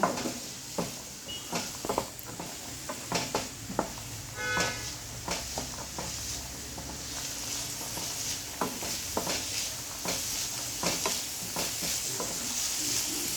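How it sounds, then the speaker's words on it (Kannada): Chicken masala avalakki with capsicum fries in a pan, a steady sizzle under repeated scraping and tapping of a spatula as the mixture is stirred, close and continuous throughout. "ಕ್ಯಾಪ್ಸಿಕಮ್ ಇದು ಕೂಡ ಹಾಕಿದ್ದೀನಿ ಚೆನ್ನಾಗಿ ಫ್ರೈ ಮಾಡಿ ಸ್ವಲ್ಪ"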